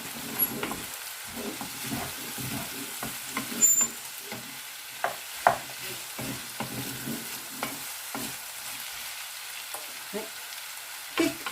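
Onions and tomatoes fry softly in a pan, a light sizzle under repeated scrapes and taps of a utensil stirring, close by with no talking.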